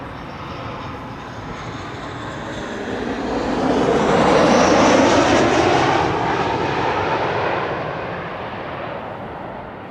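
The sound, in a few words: passenger jet airliner arriving at Amsterdam Schiphol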